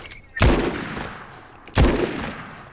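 Two loud bursts of gunfire ring out in a Fortnite match, sharp cracks with trailing echoes, spaced about a second and a half apart.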